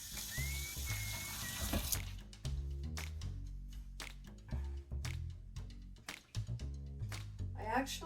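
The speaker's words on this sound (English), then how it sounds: "My water from the faucet is ice cold, so that's what I use" Cold water runs from a kitchen faucet into a measuring cup in a short, hissing stream. It stops after a couple of seconds, followed by quieter kitchen clatter and a person speaking.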